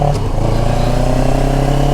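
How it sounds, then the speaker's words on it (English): A CFMoto CLX 700 parallel-twin motorcycle engine thumps steadily while riding, a close, continuous low throb with no talk over it. "The engine has a nice little thump to it. A little parallel thump going on there."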